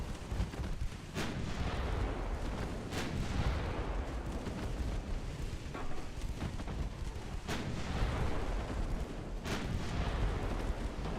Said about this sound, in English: Torpedo detonation, you'll love to see it